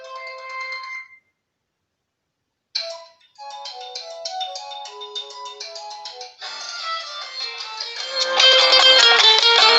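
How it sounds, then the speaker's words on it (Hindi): A Tecno Camon 16 phone plays several ringtones through its single bottom speaker: a short melodic tune, a brief silence, then brighter chiming melodies growing louder and fuller toward the end. "यहाँ पर फोन रिंग टून्स में आ जाते हैं। चेक कर लेते हैं स्पीकर्स की क्वालिटी को।"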